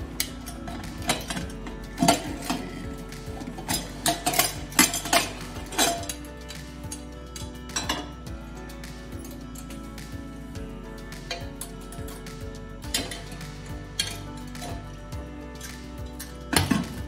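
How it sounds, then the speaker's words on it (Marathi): A pressure cooker of rice and moong dal batter, steamed on a low gas flame, is opened: metal clinks and clatters of lid and vessels, irregular and close, with no talk. "आता आपण पाहू कुकर खोलून"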